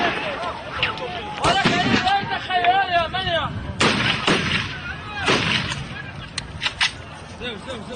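Sharp gunshots crack out in scattered bursts amid a noisy crowd at a violent demonstration against a wall in Israel, with stone throwing and shouting voices between the reports.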